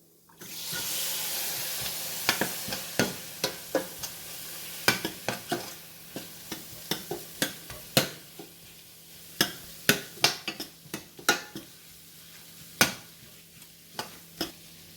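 Tomatoes cook in a pan of butter for lobster masala, giving a steady soft sizzle broken by a long run of sharp, close spatula taps and scrapes against the pan, with no talking.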